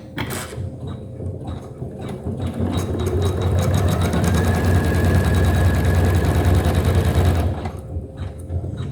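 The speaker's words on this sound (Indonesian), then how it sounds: "dan kemudian mesin kita jalankan" A Janome MC 500e sewing machine runs steadily at close range, its motor whirring with a fast rhythmic stitching chatter that builds and holds for several seconds before stopping.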